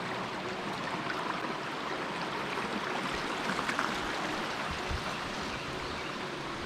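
Steady, broadband rushing of Foster Falls at South Cumberland State Park fills the scene, a constant dense hiss and roar with no pauses, moderately loud and unbroken throughout.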